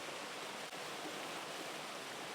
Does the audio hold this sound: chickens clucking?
no